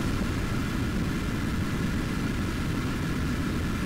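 Attack aircraft in Tom Clancy's H.A.W.X. fly with a dense, continuous jet engine roar and rumble, loud and unchanging throughout with no distinct passes.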